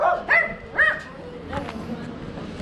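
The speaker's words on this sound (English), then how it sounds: "look at these cute little dogs over there" Small dogs outdoors in Merida, Mexico give a few short high yips and barks at the start, then quieter whimpery sounds, moderately close, with a person talking over them.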